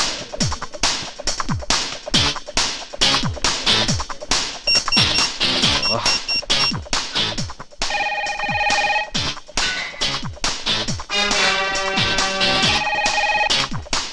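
A telephone rings in a Telugu movie scene, its bright repeated trills arriving in bursts over busy dramatic music and clattering sounds, loud and close.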